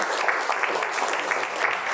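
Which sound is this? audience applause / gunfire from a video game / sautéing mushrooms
audience applause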